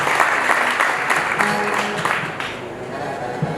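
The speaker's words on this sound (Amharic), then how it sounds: "አጨብጭቡለት።" Wedding guests applaud the groom, a singer, at his wedding to Meaza Abriham, a dense, steady clapping from a crowd with faint voices mixed in throughout.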